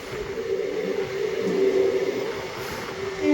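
A train on the Chennai to Trivandrum route runs steadily along the rails, giving a continuous loud rumbling roar with a faint tonal whine, heard up close from inside the carriage for the whole stretch with no talk.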